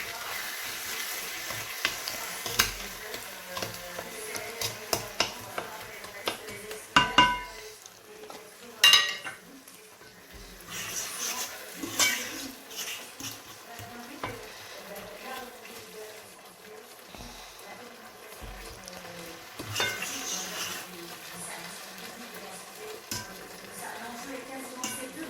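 Chakchouka vegetables cooking in a pan, a soft sizzle and simmer broken by sharp clinks and scrapes of utensils against the pan, fairly quiet and close.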